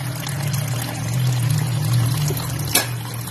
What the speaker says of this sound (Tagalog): Pupunuin natin ang tubig to